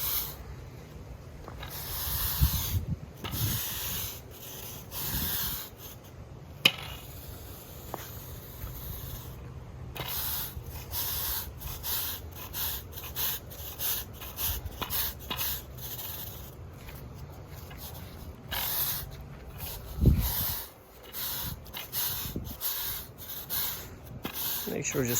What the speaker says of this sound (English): So all you need to do is just keep brushing it and take the remaining sand to the other areas